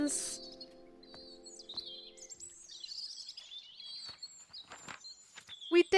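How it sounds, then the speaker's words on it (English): Robins chirp and tweet repeatedly in the garden of the video game Botany Manor, with a series of bright, high calls at close to moderate distance over a quiet background and light footsteps. "Look at all the robins!"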